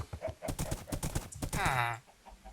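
Hooves of a horse trot in a survival video game, a quick run of clip-clop beats close by under a player talking, with a short whinny-like tone near the end.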